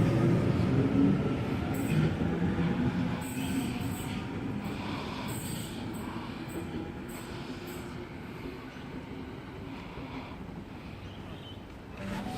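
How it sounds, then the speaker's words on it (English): A Sydney Series 1 Waratah train departs platform 1 at Warrawee station with a steady mechanical rumble and clatter that slowly fades as it pulls away, heard from the platform at moderate distance. "Series 1 Waratah A19 now departing platform number 1"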